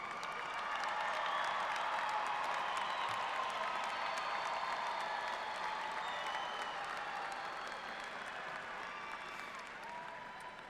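Sustained applause from a commencement ceremony audience at Texas A&M University-San Antonio, a dense wash of many hands clapping that slowly tapers, with faint crowd murmur underneath.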